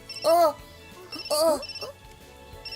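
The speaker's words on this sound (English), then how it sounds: "The phone." Telephone ringing in a visual novel, two bursts of a bright ringtone with a pause between them, fairly close and clear, with small intermittent chiming tones in the gaps.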